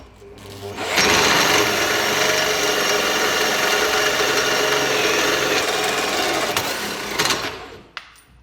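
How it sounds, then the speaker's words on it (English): A power drill runs steadily and loudly for several seconds, a high whining grind that winds down at the end. "Let's get drilling."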